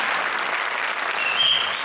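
A studio audience on a comedy stage show claps for a performer, a dense, loud, steady burst of applause lasting a couple of seconds.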